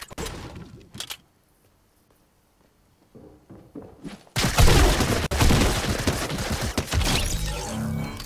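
Rapid bursts of suppressed SMG fire in the Fortnite video game erupt loudly and close after a quiet stretch, continuing densely to the end alongside scattered footstep-like thuds.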